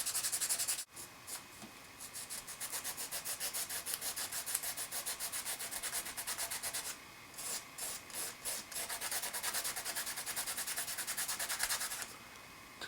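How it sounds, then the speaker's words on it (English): Paint is lightly rubbed off the tape tips of a Star Wars Scarif model palm tree, giving a close, quiet, rapid back-and-forth scratching that runs continuously with a few short pauses. "What you want to do is you want to just lightly rub off like this."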